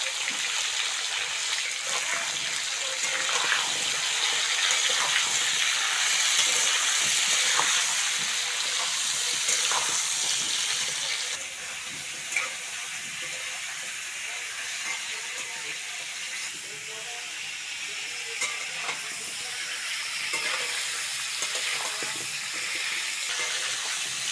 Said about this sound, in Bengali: তেল ভালোভাবে গরম হয়ে গেছে আলু আর পটলটা দিয়ে দেবো